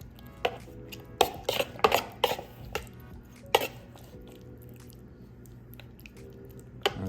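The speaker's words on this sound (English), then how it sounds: "Gonna mix that up again, make sure the butter coats everything" Pork bites being stirred with melted butter in a pan or bowl, giving soft wet squishing and scraping with a few sharper clinks of a utensil against the dish, close and intermittent, no talking.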